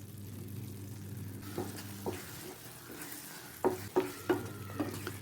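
A spoon stirs chocolate syrup into bread halwa in a pan, with soft scrapes that grow into a few louder knocks and scrapes toward the end over a low steady hum.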